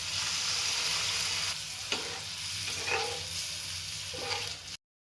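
Water poured into a pan of fried chili spice paste for a prawn bhuna with onion and green chili, giving a steady close sizzle and bubbling hiss with a few sharper spits and stirring scrapes, no voices.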